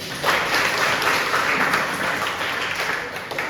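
A class of students applauds after a classmate's explanation about waste, a brief burst of steady, moderately loud group clapping lasting a few seconds.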